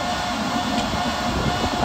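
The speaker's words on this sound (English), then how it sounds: "It's an easy jet coming in now." A steady, broad jet engine roar drones on without a break, like a large easyJet airliner passing fairly close on its landing approach.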